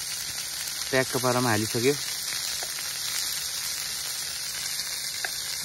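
Onions sizzle and fry in a pan with chicken meat, cooked outdoors in the jungle; a steady, hissing crackle runs throughout while a person speaks briefly near the start.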